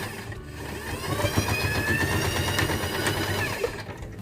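A sewing machine runs steadily as a seam is stitched on a fabric car trash bag holder, a continuous close mechanical whir for about three seconds with a brief pause near the start.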